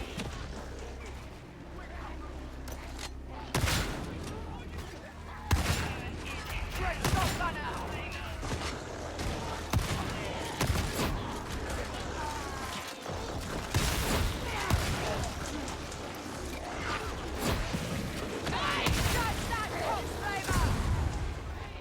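A chunky shotgun fires repeatedly in a video game, sounding as loud booming blasts at irregular intervals amid other battle noise, with a voice talking underneath.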